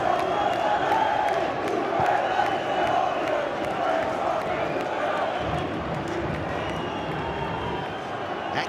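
A stadium crowd at a Leyton Orient versus Wrexham football match roars and cheers loudly and continuously, with a commentator talking over the noise throughout.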